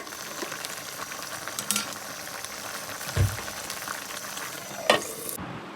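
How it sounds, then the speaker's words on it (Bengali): Vegetarian drumstick curry cooks with light spices in a pan, a steady close sizzle and bubbling frying hiss with a couple of brief utensil knocks. "নিরামিষ সাজনা রান্না করতেছি হালকা মশলা দিয়ে।"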